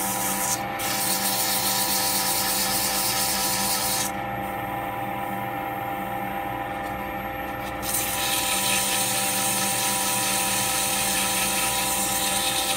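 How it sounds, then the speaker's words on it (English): Sanding a turned pen on a lathe: a steady high whir of the spinning lathe with an abrasive rubbing hiss that drops away briefly mid-way and then resumes, close and continuous, with no talking. "So I'll carry on sanding"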